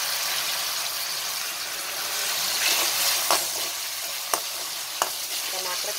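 Cumin seeds crackle and sizzle in hot oil while bottle gourd cooks, a close, steady frying hiss broken by a few sharp clicks of a spoon against the pan.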